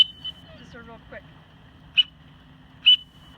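Close-up blasts on a hunting call whistle, giving a faint first peep and then two short, shrill, sharp toots about a second apart over a quiet hum, with a brief voiced sound between them.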